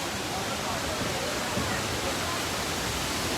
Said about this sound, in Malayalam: ഞങ്ങളിങ്ങനെ പോയിക്കൊണ്ടിരിക്കുമ്പോഴാണ് ഒരു വെള്ളച്ചാട്ടം കണ്ടത്